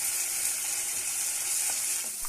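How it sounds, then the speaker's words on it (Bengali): A spice paste of onion, green chili paste, ginger paste and chopped tomato fries in a pan for a Bengali hilsa fish curry, giving a steady, bright hiss of sizzling oil with a few faint stirring knocks. "এবার মশলাটা আমি ভালো করে কষতে থাকবো।"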